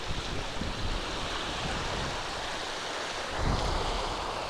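Strong gusting wind roars over a pond with waves slapping steadily, a broad continuous rush that swells louder near the end, with microphone buffeting mixed in.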